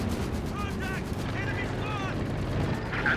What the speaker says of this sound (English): so much indirect fire